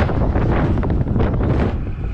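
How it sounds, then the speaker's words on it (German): Strong gusts of wind buffet the microphone outdoors, a loud, continuous low roar with rumbling bursts that fills the whole stretch, with no one talking. "Außer, dass es jetzt so windig ist."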